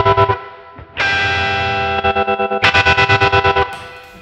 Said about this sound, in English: When I plug the tremolo in at any time, the whole thing gets loud